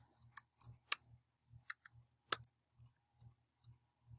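A date is typed on a computer keyboard as a sparse, irregular run of about a dozen crisp, close key clicks with short pauses between them, with no talk over it.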